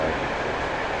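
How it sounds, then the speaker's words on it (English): A passing train heard from a home, a loud, steady broadband rumble and rush with no clear individual clacks, filling the whole moment without speech. "Sorry for the train"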